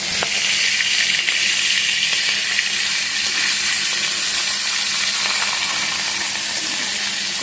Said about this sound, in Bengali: ইলিশ মাছ তো বেশি লাল লাল করে ভাজবো না, হালকা করে ভাজবো।